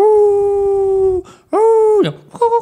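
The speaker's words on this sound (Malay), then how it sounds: "dan bunyi anjing." A dog howls in long, steady, mournful tones, three drawn-out cries separated by short gaps, loud and close, the last rising and wavering, alone with no voices.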